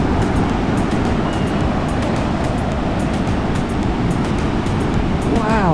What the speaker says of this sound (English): those waves are so big